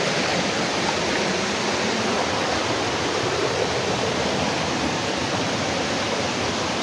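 Water rushes steadily along a stream on Burias Island, a dense, constant broadband flow that stays close and loud throughout with no voices.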